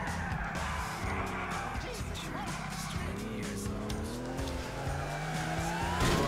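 An Audi in GTA IV revs hard and accelerates with screeching, skidding tires, the engine note rising and holding steadily over several seconds.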